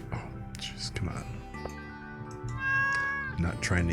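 A cat meows in the Stardew Valley farming game, heard amid game music and someone talking over it, the mews short and mid-loud.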